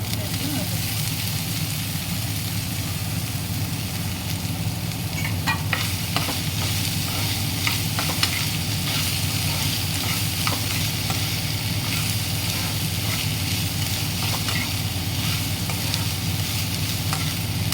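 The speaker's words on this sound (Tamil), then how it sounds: "ஒரு 5 நிமிஷம் போல் நல்லா வதங்கிடுச்சு." Raw banana pieces sautéing with ginger and garlic in a pan, giving a steady, continuous sizzle with occasional scraping stir clicks, close and even throughout.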